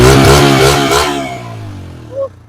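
A Bajaj Freedom 125 CNG motorcycle running on petrol gives a loud, close throttle blip with a rising engine roar, then winds down to a lower, steady idle with a small clatter near the end.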